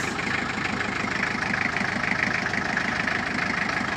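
An Owner-type jeep with a diesel engine runs steadily at idle, giving a continuous loud, rumbling clatter with a fast even knock. The sound is close and carries on throughout without talking.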